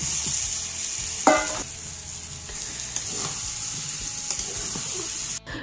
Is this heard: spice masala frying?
yes